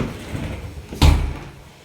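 Swing door in a newly renovated kitchen toilet, a single short thud of the door swinging shut after a quiet moment, close and fairly loud with no talking.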